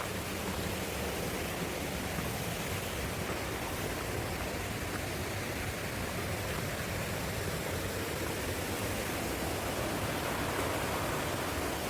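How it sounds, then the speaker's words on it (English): Steady broadband roar of a waterfall fed by cold mountain runoff on a rain-carved forest trail, continuous and fairly close with no voices over it. "Probably here in the background, coming up on that waterfall."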